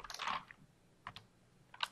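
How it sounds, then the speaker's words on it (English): Soft, close typing on a computer keyboard during a first-grade class lesson in Google Drive, a few brief clusters of key clicks separated by short pauses. "Now we're going to type a word."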